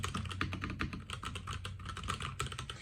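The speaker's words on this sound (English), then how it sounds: "I'll show you how this keyboard sounds" Rapid, steady clicking of a tactile Durogod wireless mechanical keyboard being typed on up close, continuous and fairly loud, with no talking.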